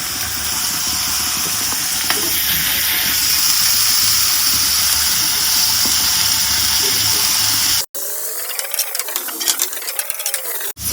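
Capsicum and onion fry in a pan for veg momos, making a loud, dense, steady sizzle that runs for several seconds before cutting off abruptly to a thinner, wavering hiss.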